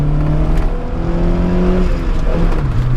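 A 1990s-era Honda Civic 25X EF2 engine groans and drones through a Fujitsu GK exhaust as it accelerates in second gear, a steady throaty tone rising and shifting in pitch, close and loud.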